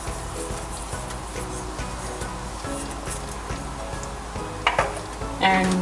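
Garam masala, sugar and kasuri methi being stirred into a malai kofta gravy in a pan, a soft steady sizzle with scraping spoon strokes and a couple of louder clinks near the end.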